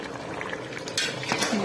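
A spoon stirs turmeric into a pot of Muslim wedding-style dalcha, with soft scraping and light metal clinks over a low simmer, ending in a couple of sharper scrapes against the pot.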